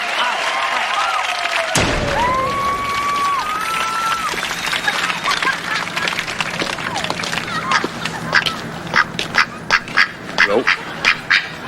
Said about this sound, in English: Pretty nice duck.